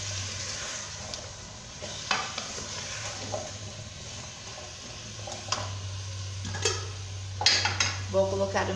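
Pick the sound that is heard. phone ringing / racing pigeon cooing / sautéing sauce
sautéing sauce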